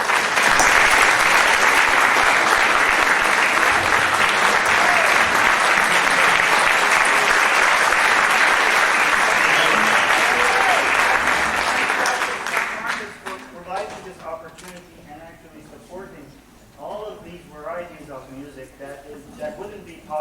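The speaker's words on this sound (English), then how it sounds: "So, big round of applause." Dense, steady applause from a concert audience fills the hall for about twelve seconds, then fades out into scattered claps and someone speaking over the thinning crowd.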